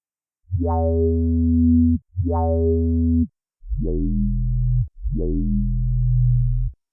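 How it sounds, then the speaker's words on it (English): Four sustained square-wave synth bass notes with a buzzy, vowel-like filter sweep that makes them sound as if they talk; the last two notes sit lower and heavier. "we have a pretty talkative sound, which is called the yoi bass"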